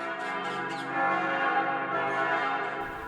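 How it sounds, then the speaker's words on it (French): The bells of the Church of the Dormition of Mary ring in full peal, resonating in a rich, sustained sound, their overlapping tones hanging in the air before the sound cuts off. "les cloches de l'église de la Dormition de Marie sonnent à toute volée"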